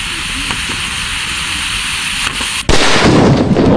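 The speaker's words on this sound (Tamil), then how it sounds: "எப்பா வெறித்தனமான சவுண்டுங்க" A sudden loud blast from a homemade cylinder bomb firecracker bursts out after a stretch of steady hissing of leaking gas, followed by a sustained roaring crackle close by.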